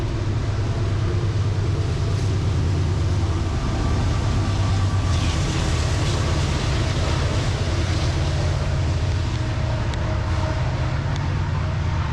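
A train rumbles past in a loud, steady roar that fills the whole stretch without letting up.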